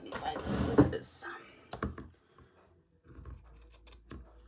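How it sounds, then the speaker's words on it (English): Scissors snip through lovely old cotton thread while Christmas bunting is slow-stitched by hand. A few crisp, close cuts come amid quiet handling rustles, with a voice briefly speaking at the start. "I'm going to cut that off"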